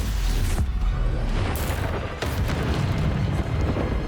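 Fiery Confringo spell blasts from the game Hogwarts Legacy, a dense, loud roaring boom with bursts layered over continuous rumbling noise, close and without talk.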